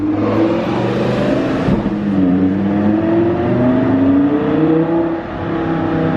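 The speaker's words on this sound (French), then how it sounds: "c'est rare de voir une Ford GT accélérée comme ça" Ford GT sports car accelerating hard in a city street, a loud continuous engine roar with rising pitch sweeps, swelling and dipping briefly before climbing again, close and dominant with no talk.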